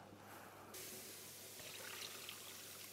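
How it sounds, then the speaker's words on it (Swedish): Water pours steadily into a large pot of oxtail ragout on a kitchen stove, a soft, even rush starting after a brief quiet moment and continuing to the end. "Nu häller vi på vatten. Nu ska det här täcka."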